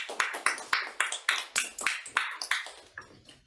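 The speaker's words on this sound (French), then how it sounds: "Vos applaudissements." Several hands clap in a loose, evenly spaced rhythm on stage at a French-language show, sharp close claps roughly every third of a second, loud and without speech over them.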